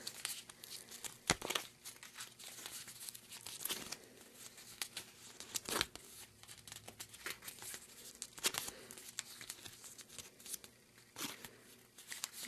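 Scored paper being accordion folded for Halloween medallions, with close, crisp crinkles and sharp creasing snaps repeating at an irregular pace in a quiet room.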